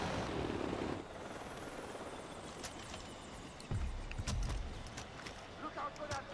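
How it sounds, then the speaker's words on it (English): Helicopter in the video game Far Cry 4 over the Himalayan mountains, a steady loud rotor drone throughout, with some thumps and clatter partway through and a player talking over it. "What's happening to my helicopter? Helicopter."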